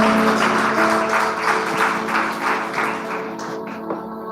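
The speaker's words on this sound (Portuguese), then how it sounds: "Quem pode aplaudir a Jesus com alegria?" A church congregation claps at the close of a worship service, a thick, steady wash of many hands that is loud at the start and thins out toward the end, with no speech over it.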